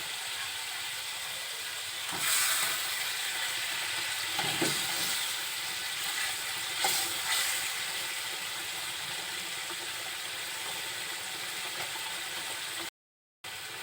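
Pieces of rohu fish slide into bubbling mustard masala for shorshe rui, giving a close, steady sizzling hiss broken by a few soft splashy thumps as they land, with no talking.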